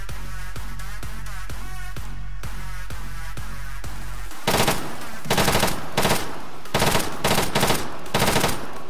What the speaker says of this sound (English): No, they are shooting back. They are shooting back.